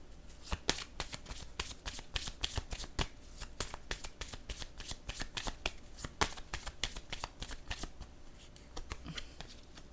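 Tarot cards are shuffled steadily close up, a dense run of crisp riffling snaps repeating in quick bursts across the whole stretch, with no one talking.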